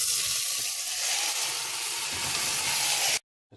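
Mince sizzles loudly in a hot pan, a steady close crackling hiss that cuts off abruptly near the end.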